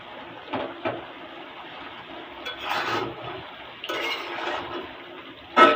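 Beef in tomato sauce being stirred in a pan, with soft scraping and rubbing strokes and occasional clinks of a spoon against the metal, moderately close, in bursts, and a sharper clatter at the end.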